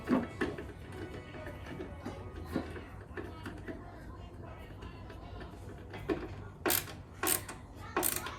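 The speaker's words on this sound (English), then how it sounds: "I've got my screwdriver in here, screwing from the back." Screwdriver driving screws into the back of a wooden furniture piece during a makeover, heard as quiet intermittent ratcheting clicks and turning, with a few sharper bursts of scraping near the end.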